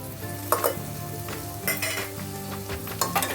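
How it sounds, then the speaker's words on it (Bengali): Soybean chunks and potato sauté in a pressure cooker, with a constant loud sizzle and repeated scraping stirs of a spoon against the metal pot, and no voices. "ভালোভাবে সয়াবিনটাও কষিয়ে নিতে হবে দেখুন কুকারের মধ্যেই কষাতে হবে"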